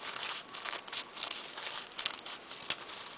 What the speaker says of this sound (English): Take your largest coffee filters. You can do more than one at a time. Just do whatever you think. Cut them into a petal shape.